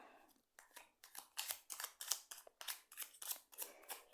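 Tarot cards are shuffled up close, giving a rapid series of crisp, papery snaps and flutters in a quick, uneven rhythm, fairly quiet overall.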